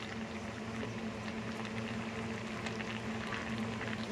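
Quiet, continuous bubbling of water boiling in a small bowl, a soft steady simmer with faint pops and no voices.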